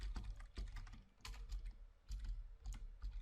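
Code being typed on a computer keyboard, keys clattering in quick irregular bursts with short pauses between runs, close and fairly quiet, no voices.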